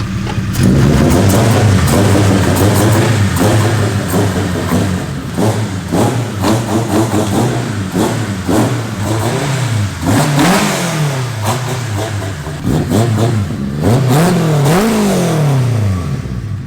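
A high-compression K-series engine swapped into a Nissan S13 revs repeatedly, loud and close, climbing and falling in pitch through short blips over a steady idle, with no talking.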